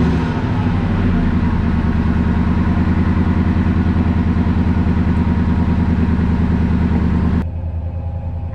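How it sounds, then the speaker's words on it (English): A 2003 Ford F150 Harley Davidson edition pickup engine, newly fitted with an SCT tune, is running at a loud, steady, close idle with an even rumbling pulse. Near the end the sound drops and thins. "We're going to crank it up and see if we got everything right with programming."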